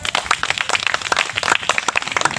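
Audience at a gathering clapping in a rapid, uneven patter of many hands, close and fairly loud, with no voices over it.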